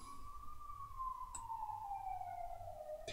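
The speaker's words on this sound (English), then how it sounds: "these ambulances so annoying" An ambulance siren passes outside, one steady wail that slowly falls in pitch as it moves away, heard fairly faintly through a room with no talking.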